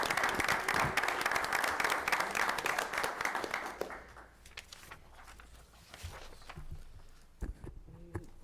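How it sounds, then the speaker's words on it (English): A town board meeting crowd gives the girls who led the pledge a round of applause: dense, steady clapping for about four seconds that quickly thins and fades, leaving scattered shuffles and footsteps in a quieter room. "Everybody, a nice round of applause for the girls."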